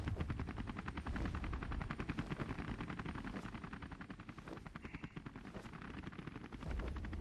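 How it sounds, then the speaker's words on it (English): A helicopter boss in the video game Owlboy fires rapid, continuous gun bursts over a constant rotor-like drone, a dense mechanical rattling that stays loud and steady throughout. "Another helicopter?"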